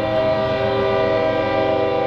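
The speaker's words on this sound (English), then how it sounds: "You guys hear the train?" A train sounds a loud, steady horn that holds one droning chord throughout, near and unbroken, over a rumbling low background.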